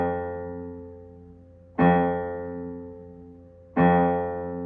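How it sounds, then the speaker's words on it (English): A single tone on an early-1800s piano with short, thin, weak strings sounds and decays fairly quickly, struck three times with pauses, thin and short-lived rather than long and resonant. "on a piano from the beginning of the 1800s, a long note would sound something like this"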